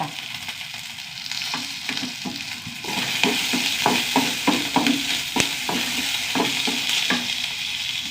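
Curry leaves frying in a pan, a steady close sizzle that grows louder partway through, broken by frequent scraping and clinking stirs of a utensil, with no speech.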